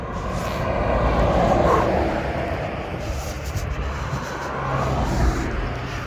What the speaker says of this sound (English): There's a truck.